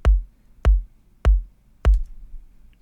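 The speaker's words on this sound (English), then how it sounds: "So the way we do the kick for this beat is just a 4 on the floor beat" A four-on-the-floor reggaeton kick drum loop: four deep, punchy kicks land evenly about 0.6 seconds apart, each with a quick decay into near silence, loud and alone with no other instruments or voices.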